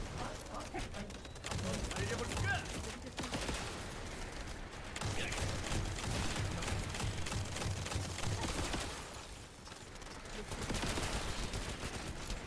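Video game gunfire during a final boss fight, a dense continuous stream of shots and effects, fairly faint and muffled, running in long stretches with short gaps.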